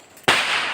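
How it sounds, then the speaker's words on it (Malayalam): A single sharp firecracker bang set off during Vishu festivities in Kerala, cracking loudly at close range after a quiet moment and then trailing into a long, hissing decay. "പടക്കം ഇവിടെ പടക്കം പൊട്ടിക്കുമ്പോ"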